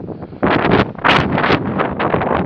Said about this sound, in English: you can see the wind right now, it's pretty bad